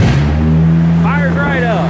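A race car engine, back in running order after its first race, holds a steady, loud, close idle with a deep droning hum, while a voice speaks briefly over it.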